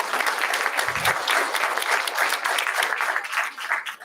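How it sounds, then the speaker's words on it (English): An audience applauds at a school board of education meeting; a dense, even round of clapping from many hands, fairly loud and sustained throughout, easing slightly at the end. "Let's give one more round of applause if we could"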